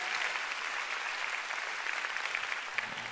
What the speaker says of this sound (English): Let's give the Lord a big hand.